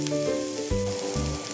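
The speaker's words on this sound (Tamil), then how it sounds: "பீட்ரூட் ஆயில நல்லா வதங்கணும்." Beetroot sautéing in oil in a pan for beetroot chutney, a continuous close sizzle with low bumps from stirring, and no voices.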